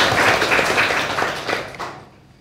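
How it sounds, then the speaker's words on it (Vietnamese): A classroom of students claps for a classmate in a brisk, lively round that runs about two seconds, then fades quickly to quiet. "thưởng cho bạn một tràng pháo tay."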